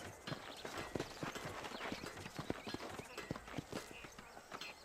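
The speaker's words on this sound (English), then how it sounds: "These are fine horses." Steady clip-clop of horse hooves at a trot in the video game Red Dead Redemption on Xbox 360, close and continuous, with a faint outdoor ambience underneath.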